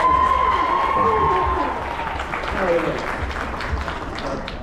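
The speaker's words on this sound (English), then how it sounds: "Alright, give another round of applause for that." Audience applause at a My Hero Academia anime convention panel in Miami, a steady wash of clapping from a large crowd lasting several seconds, with voices and cheers mixed in and some talk over it.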